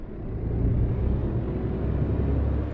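A heavy truck engine in Euro Truck Simulator 2 rumbles steadily and low as the rig pulls forward, a constant close drone with no speech over it.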